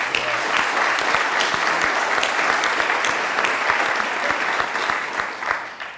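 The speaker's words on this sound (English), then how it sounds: "please give them a big round of applause today" Audience applause at a legislative review event, a dense, steady burst of clapping from a crowd that holds at full strength for about six seconds before tapering slightly at the end.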